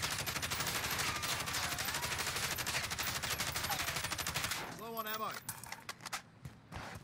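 Sustained automatic gunfire in Warzone aimed at a wall, a steady rapid stream of shots for over four seconds that stops abruptly, followed by a few scattered clicks and a brief voice.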